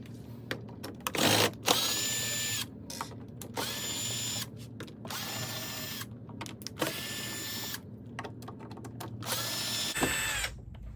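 A power drill removes Phillips head screws from a Juki TL sewing machine in several short whirring bursts, each spinning up, holding a steady whine, then stopping, with brief pauses between them.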